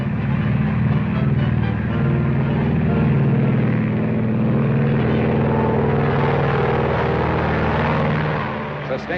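Boeing 307 Stratoliner propeller engines opened to full throttle in Microsoft Flight Simulator, a loud steady drone with deep low rumble filling the whole stretch, fading slightly at the end.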